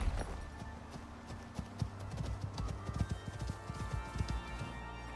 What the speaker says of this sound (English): So why don't we take the horse?